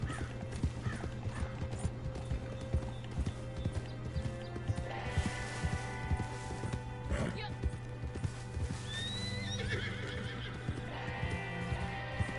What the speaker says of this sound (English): This is the Black Arabian Horse.